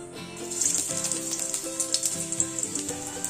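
Chopped ginger sizzles in hot oil: a steady, close, continuous sizzle with bright crackling hiss and faint kitchen clatter underneath.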